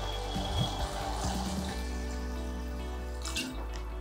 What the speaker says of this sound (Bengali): এবারে জলটা অ্যাড করে দেব যেহেতু স্টু তাই জলটা একটু বেশি দিচ্ছি